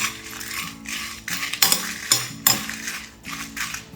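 Cinnamon, cloves and coriander seeds dry-roast in a pan, with repeated scraping and rattling bursts as a spoon stirs them, a few louder clinks against the metal, and quiet gaps between strokes.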